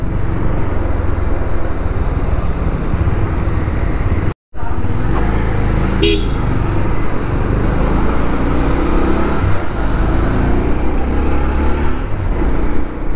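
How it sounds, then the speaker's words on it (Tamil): Night street traffic in Goa around 11 pm, with cars and motorbikes passing in a continuous loud roar heard from a moving two-wheeler, briefly cutting out for a moment. "பாருங்க 11 மணிக்கு இவ்வளோ டிராஃபிக் இருக்குங்க இங்கே"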